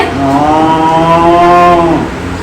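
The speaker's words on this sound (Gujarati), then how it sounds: "ભેંસ કેમ બોલે?" A buffalo lowing once, a loud, close, drawn-out moo with a rich harmonic tone lasting about two seconds, heard on its own.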